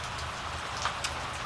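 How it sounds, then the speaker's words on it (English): Steady rain patters on a front porch, a continuous close wash of drops with a couple of brief brighter splashes, no voices. "Thanks for hanging out with me here on the rainy front porch"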